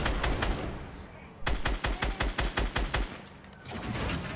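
Rapid gunfire in Fortnite Battle Royale, a quick burst of about nine evenly spaced, close, loud shots after an earlier spray of fire, with a player's voice talking over parts of it.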